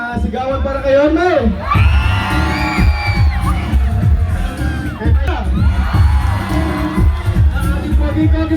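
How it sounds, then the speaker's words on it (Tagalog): A large crowd at a political rally in the Philippines cheers loudly for the mayor, with shouts and whoops swelling in waves across a sustained, dense roar that continues throughout. "Isang malakas na sigawan para kay Yorme."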